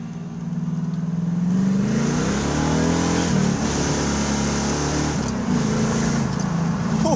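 A 1992 Camaro RS V8 revs in several rising and falling pulls, a loud, close, throaty engine roar that holds steady between blips, with no talking.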